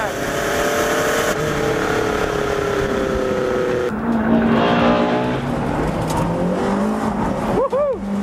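Ferrari 458 Challenge race car engine revving high on a track, loud and continuous with rising and falling pitch through shifts and downshifts, tire noise near the end.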